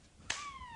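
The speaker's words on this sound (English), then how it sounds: "Go ahead, clap" A single sharp hand clap rings out loud and close to trigger a Petster robot cat toy, followed by a sustained electronic tone that slowly glides downward.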